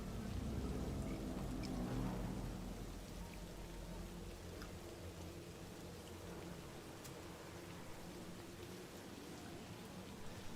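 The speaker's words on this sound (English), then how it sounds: "Sitting in the rain." Steady rain falls in a video game, a soft even hiss of droplets that continues unbroken and faint throughout.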